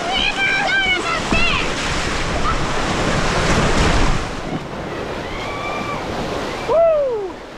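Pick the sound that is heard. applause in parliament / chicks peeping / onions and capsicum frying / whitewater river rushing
whitewater river rushing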